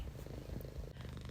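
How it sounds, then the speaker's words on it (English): A pet cat purrs faintly in the background with a low, rapid, continuous rumbling flutter and no talking. "If you can hear like a faint purring in the background, it's my cat."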